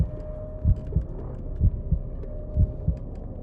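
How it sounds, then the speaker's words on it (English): Heartbeat sound effect in the horror game Call of Cthulhu, giving steady paired lub-dub thumps in a quick, even rhythm, loud and close over a low background hum. "Why is my heart beating so fast?"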